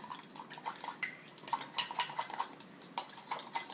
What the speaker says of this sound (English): And you want to stir it around